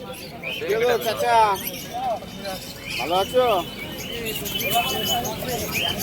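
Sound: pigeons at a pigeon market

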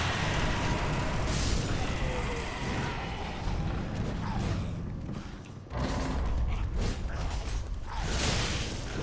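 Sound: door opening with creaking mechanism in video game Dark Souls 3

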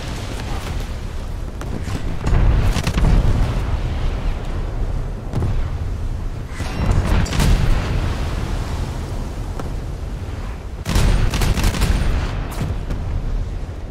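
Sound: 5-inch naval gunfire hitting a ship in a video game

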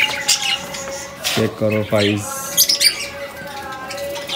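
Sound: pigeons calling and flapping

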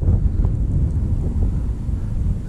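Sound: strong wind outdoors by the water

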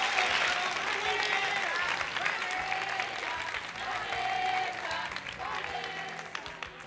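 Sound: audience applause

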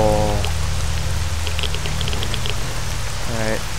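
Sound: rain falling in video game S.T.A.L.K.E.R.: Shadow of Chernobyl

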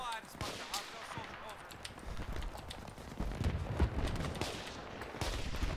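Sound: gunfire in video game Battlefield 3

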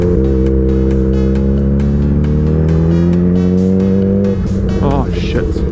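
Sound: cars revving past in a forest parking area

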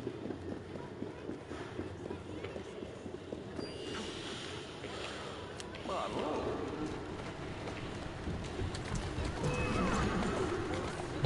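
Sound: horse neighing and hooves in Assassin's Creed Syndicate video game

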